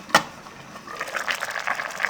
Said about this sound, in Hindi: गाइस 2 से 3 उबाल आ चुके हैं।